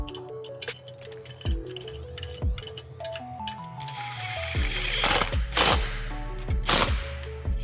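Ratcheting and bolting as a threaded backing plate is fastened to a gutter machine bracket, with rapid metallic clicks and stepped ratchet sweeps building into louder, denser clattering toward the end, close by.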